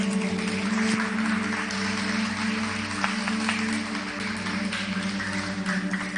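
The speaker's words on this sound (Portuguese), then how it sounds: "Aplauda ao Senhor." A church congregation claps steadily for several seconds, applause filling the room with a constant low hum underneath.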